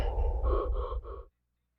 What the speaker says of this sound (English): He needs to calm his breathing down.